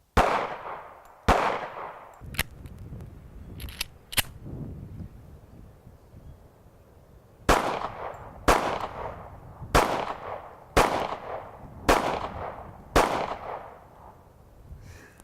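A Smith & Wesson M&P Shield 45 Performance Center pistol fired outdoors: about ten loud, sharp shots with short echoing tails, a few spaced out, then a quicker steady string, with wind noise between.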